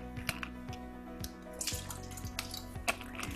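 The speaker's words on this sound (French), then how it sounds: "on va verser toutes ces eaux différentes et on va bien voir que toutes les eaux ne sont pas les mêmes" Tap water and bottled mineral waters, including Smart Water and Evian, are poured in turn, giving a steady trickle with gurgles, splashes and dripping close by, fairly quiet and with no voices.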